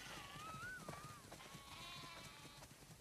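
Sheep bleat in The Last of Us Part II while being herded into a barn in a snowy setting, with wavering cries drifting over steady game ambience and soft footsteps, fairly faint and alone without talk.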